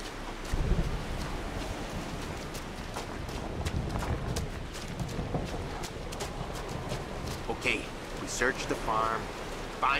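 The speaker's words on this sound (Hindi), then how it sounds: "क्या ही ड्रामेटिक चल रहा है भाई, बारिश, वो थंडर स्टॉर्म" Rain and a thunderstorm in Mafia: Definitive Edition, a steady wash of rainfall with low rumbling swells under a voice talking throughout.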